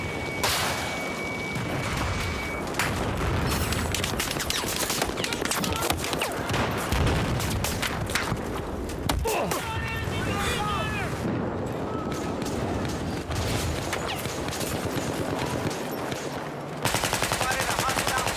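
Sustained machine gun fire and scattered gunshots in a war video game, dense bursts of rapid rattling with booms underneath, continuous throughout and mixed with game voices and a player talking.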